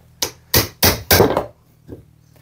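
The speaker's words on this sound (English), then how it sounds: "You just want to hammer that under the decking board." Four sharp hammer blows strike an old metal chisel in a quick series, driving it under a decking board, close and loud, followed by a fainter fifth tap.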